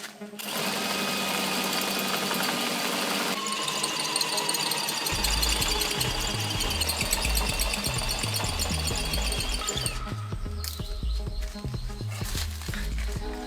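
A cordless brushless hammer drill set to maximum torque and hammer mode bores into a pillar with a 12 mm bit, giving a loud, continuous rattling, buzzing grind that shifts in pitch partway through and lasts over ten seconds.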